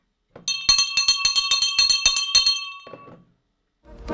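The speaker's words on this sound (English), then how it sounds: "I have my bell here beside me" A hand bell rings in a fast, even series of about a dozen bright metallic strikes, loud and close, before the tone rings out and fades.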